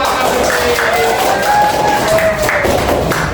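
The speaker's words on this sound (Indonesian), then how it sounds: "Oke, tepuk tangan dulu." A classroom of students claps hands together in a dense, steady burst of applause, loud and close, with a murmur of voices mixed in.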